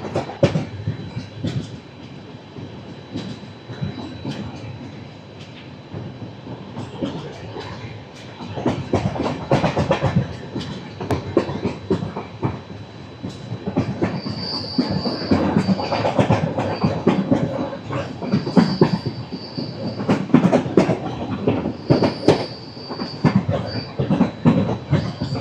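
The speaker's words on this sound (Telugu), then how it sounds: "అలా స్మూత్గా వెళ్ళిపోతుంది ట్రైన్" Toofan Duronto express train, Yesvantpur to Delhi Sarai Rohilla, running smoothly at about 100 km/h with little shaking; a steady rumble of wheels and carriage noise fills the interior, rising a little midway, with faint clicks and high squeals.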